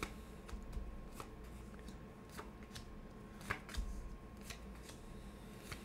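Tarot cards are shuffled and drawn in soft quiet riffles and flicks, close but faint, with a few sharper snaps.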